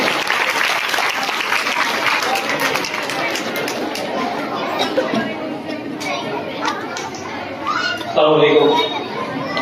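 Loud applause greets a guest at a 2024 summer camp gathering, a dense steady clatter mixed with crowd chatter and children's voices, swelling briefly louder near the end.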